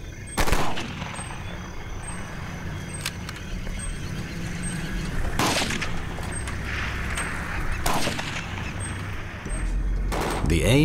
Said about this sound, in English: The gunfire is meant to frighten, not to kill them.